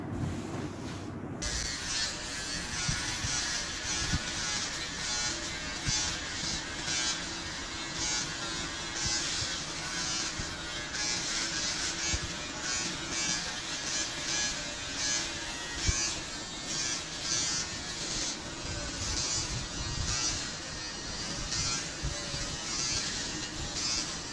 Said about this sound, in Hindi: तो अब मैं चल के ट्रिमर घुमा देती हूँ फेस पे